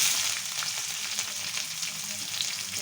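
Green chillies dropped into hot oil left from frying fish, with onion, crackle in a dense, steady sizzle close by that fills the whole moment without pause, with no voices over it.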